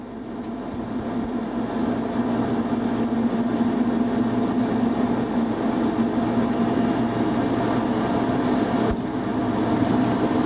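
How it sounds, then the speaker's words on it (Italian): Steady rumble and rolling clatter of a train slowing to 60 km/h for track works on the Pontebba line from Udine to Tarvisio, heard from the cab, continuous and fairly loud, with no voices. "Il treno rallenta per il rallentamento a 60"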